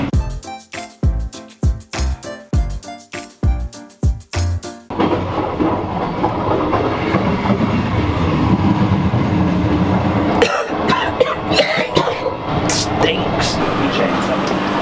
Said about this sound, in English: the train started moving